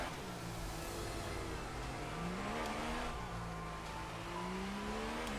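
Formula One race cars in the F1 2018 video game at the British Grand Prix, a steady loud engine drone with rising and falling revs as cars accelerate, with no talk.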